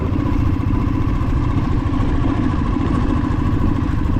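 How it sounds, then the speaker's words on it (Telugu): Scooters and motorbikes riding along a rough road through the Lambasingi hills, a steady loud mid-pitched engine drone with rattling clatter throughout, close by and continuous with no talk. "జనాలు స్కూటీలో కూడా వెళ్ళొస్తున్నారు."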